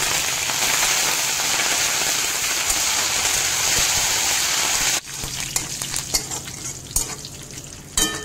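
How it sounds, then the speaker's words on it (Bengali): Curry leaves crisping in hot oil, a loud dense crackling sizzle that drops suddenly, then continues as quieter spitting with scattered pops and utensil taps. "কারি পাতাটাও মুচমুচে করে ভেজে নিচ্ছি।"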